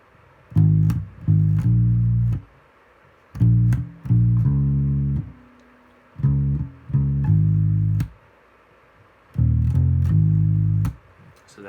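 Bass guitar playing a country bass line, heard alone as four short groups of repeated low notes separated by brief pauses.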